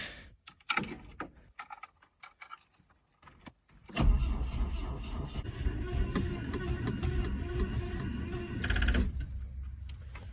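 1974 Saab barn find being cranked with the clutch pushed in and a weak battery: after a few clicks and clunks, the starter drones steadily for several seconds without the engine catching, loud and close, then cuts off.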